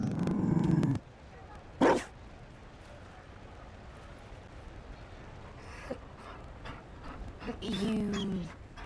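A Mabari war dog in the game Dragon Age Inquisition gives a few sharp separate barks over quiet game ambience, with brief voice sounds between them.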